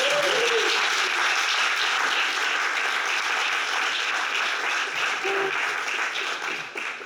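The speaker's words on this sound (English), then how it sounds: "Thank you for this round of applause to warm a bit the atmosphere." Audience applause for guests joining a presenter on stage at a game studio talk, a dense, sustained clapping from a large crowd that holds steady before slowly thinning, with a brief voice or two faintly above it.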